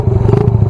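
A Raider 166 motorcycle engine with a quick-throttle setup, a close, loud, rough idle-to-rev burble with rapid pulsing firing beats over a very short moment.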